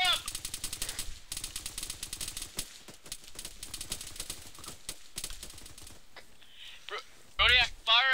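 Machine gun fire from a military video game hammers out in steady rapid bursts, loud and close, with voices talking over the shooting and a sharp whistling effect near the end.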